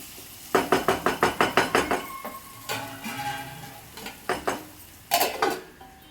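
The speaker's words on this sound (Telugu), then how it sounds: "ఆ తర్వాత ఉప్పు, కారం, పసుపు వేసి బాగా ఫ్రై చేస్తున్నాను" A metal utensil clinks and scrapes rapidly against a pan while ginger-garlic paste is fried with salt, chili powder and turmeric, in bursts of sharp rhythmic taps and pauses.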